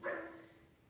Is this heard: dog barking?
yes